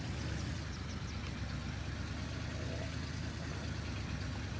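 Simulated car engine in the video game DayZ on a Chernarus map, droning steadily with a low, dense rumble as it automatically downshifts and upshifts, held at a constant loudness throughout with no talking.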